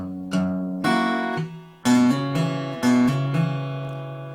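An acoustic guitar plays an intro riff slowly: single bass notes alternate with block chords, each ringing out clearly in a measured, picked rhythm with no talking.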